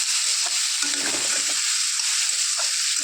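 Jackfruit and potatoes stir-fried together in a masala, with a steady loud sizzle throughout and intermittent stirring scrapes and clatters close by.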